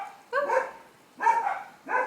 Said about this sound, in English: That is why the dogs are barking.